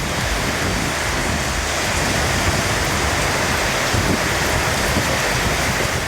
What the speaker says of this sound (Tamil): திருவள்ளூர் மற்றும் அதன் சுற்றுவட்டார பகுதிகளிலும் பரவலாக மழை பெய்தது